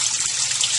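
Spring water gushes steadily and loudly close by, a continuous bright rushing flow with no voices over it.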